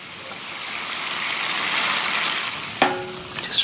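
Gyoza fry in a pan with a mixture of corn flour and water plus a little sesame oil, giving a steady close sizzle that swells and hisses, with a few clinks near the end.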